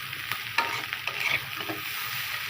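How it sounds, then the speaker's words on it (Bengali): Bitter gourd is stirred as it fries in a pan, with a steady sizzle and soft scraping of the spatula, close and without talk. "ভালোভাবে নাড়া দিচ্ছি"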